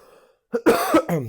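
A single person coughs and clears their throat, a few harsh close bursts after a brief quiet moment.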